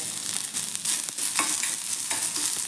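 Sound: onion frying and being stirred in oil

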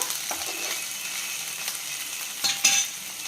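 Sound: finely chopped green chillies frying with onions in a pan

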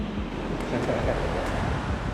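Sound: sea waves at the beach

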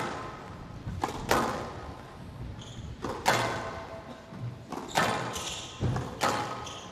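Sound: squash ball shot during a match

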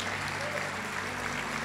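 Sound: audience applause

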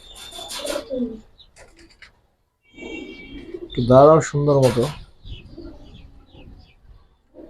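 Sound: Beji pigeons cooing

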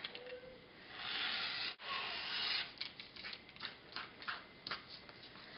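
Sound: trimming a paper piecing pattern

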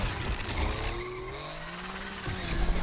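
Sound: Subaru BRZ drifting with tire squeal in video game Need for Speed Unbound

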